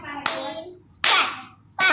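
A child claps their hands in a few sharp, separated bursts, close to the listener. Only about three distinct claps stand out, spaced irregularly, with no talking.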